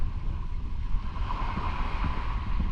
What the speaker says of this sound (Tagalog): malakas yung dagat nag-aalon-alon